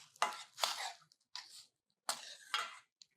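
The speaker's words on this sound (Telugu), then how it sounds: "కొత్తిమీర కాడలు, అది ఆ కాడలు కొద్దిగా ఉంటే అవి కూడా కట్ చేసి ఇందులో వేసేస్తున్నా." Coriander stems being cut with a knife for ragi soup, giving a few crisp, close chopping strokes in short clusters separated by brief silences.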